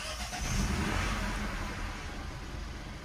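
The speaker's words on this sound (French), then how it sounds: "il ne reste plus qu'à la démarrer pour voir si elle tourne correctement" A Peugeot 208 with the 1.2 PureTech engine, just after an oil change, runs in a steady, close, mid-pitched idle with a slight rev early on, heard alone without talk.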